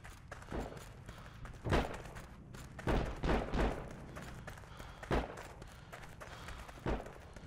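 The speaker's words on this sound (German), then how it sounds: "Hier wird überall geschossen." Gunfire rings out across a match in the video game Heroes & Generals, with several loud, separate shots and short bursts at uneven intervals over a low background rumble.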